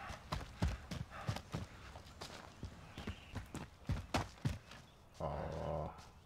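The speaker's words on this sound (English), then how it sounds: "my own footsteps is making me nervous" Heavy, hollow footsteps in Call of Duty: Modern Warfare thud in a steady walking rhythm, loud and close, followed by a short burst of rumbling noise.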